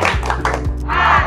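A school class does the rhythmic 'tepuk IPA' clap chant, a few sharp group claps in a quick pattern with voices chanting along in unison, loud and close in a classroom.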